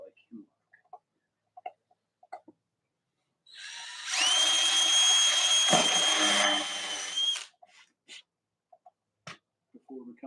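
A power drill drives a screw into wood while a box is built, one steady high whine of about four seconds standing out loud and close between short bits of talk.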